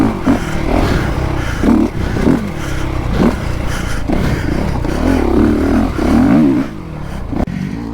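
A Honda CRF450 enduro motorcycle engine on an off-road ride through a rough gully, revving and pulling loudly and continuously close by, with throttle surges and rattling from the bumpy terrain.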